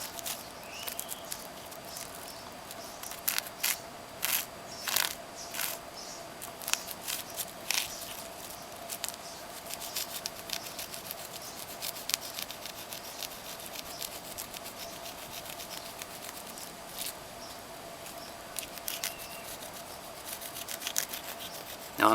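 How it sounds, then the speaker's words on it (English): A saw rasps across the surface of amadou fungus, roughing it up in short scraping strokes that come in irregular bursts, close and fairly quiet, with a steady faint hum running underneath. "the saw was a pretty neat tool to rough up the surface"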